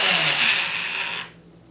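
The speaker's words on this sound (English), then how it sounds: "this is what it looks like when the drill's spinning" Power drill spinning a homemade wooden mini lathe, a steady high-pitched whir that runs loud for about a second then cuts off abruptly, leaving quiet.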